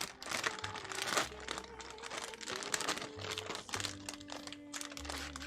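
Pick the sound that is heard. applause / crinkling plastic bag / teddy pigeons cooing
crinkling plastic bag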